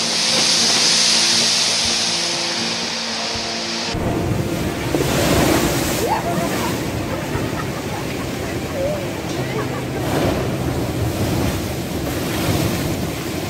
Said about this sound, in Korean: 괴물같이 큰 파도를 구경하기 위해 많은 사람들이 모였습니다.